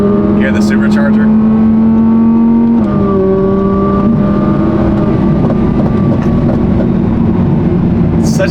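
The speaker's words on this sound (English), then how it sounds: "You hear the supercharger?" Supercharged Audi R8 engine heard from inside during transport, a faint, unusual supercharger whine riding over a steady droning engine tone that shifts pitch partway through, with loud continuous background noise.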